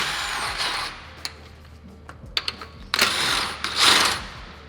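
Ratchet wrench loosening the remaining wheel lug bolts on a car hub, heard as short bursts of mechanical clicking and spinning, nearby and moderately loud, separated by quieter pauses.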